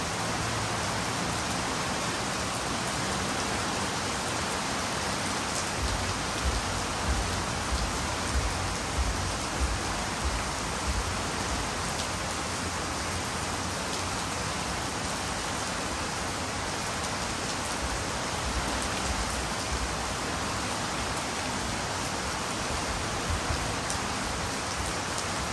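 Heavy rain during a storm pours down steadily in a dense, unbroken hiss for the whole stretch, loud and close, with no voices.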